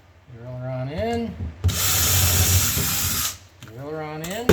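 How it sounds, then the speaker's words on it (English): A power drill whirs for a couple of seconds, driving a screw to fasten a pull onto a kitchen cabinet, with someone speaking right before and after. "Drill her on in."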